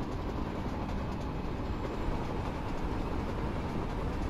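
A commuter train pulls into platform 3 at Mambalam station on the Chennai Beach to Tambaram fast local line in Train Simulator, a steady broadband rumble of wheels and carriages that stays loud and even throughout with no speech.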